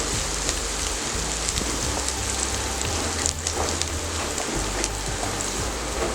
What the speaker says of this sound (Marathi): फुल गॅसवरतीच आपण कांदा परतून घेणार आहोत।